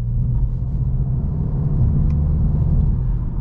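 2022 VW Golf GTI with a 2.0 engine and 7-speed dual-clutch gearbox, accelerating at low RPM in a steady, loud, close rumbling drone heard from inside the car, without talk.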